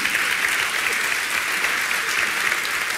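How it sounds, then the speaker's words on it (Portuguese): Dense, steady audience applause fills a televised RTP anniversary gala in Portugal, many hands clapping continuously at a loud, even level with no clear voices on top. "Só esse aplauso!"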